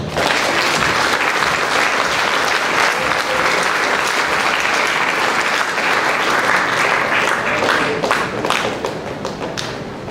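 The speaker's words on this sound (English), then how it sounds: "Join me in a round of applause." Sustained audience applause at a school cadet awards ceremony, loud and dense from start to finish with scattered claps and thumps, easing slightly near the end.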